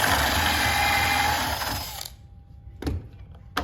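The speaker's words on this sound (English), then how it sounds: "You're gonna drill into B until it stops." A power drill with a 3/4-inch bit whirs steadily into wood for about two seconds while boring a hole for a step stool, then stops, followed by a couple of clunks and handling noises.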